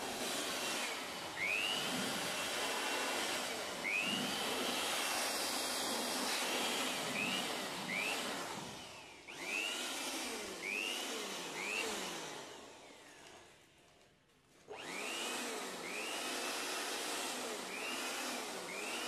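A Jakmister electric air blower with an unbreakable plastic body runs steadily with a loud, broad whooshing roar that wavers in pitch, briefly drops near the end and then comes back up.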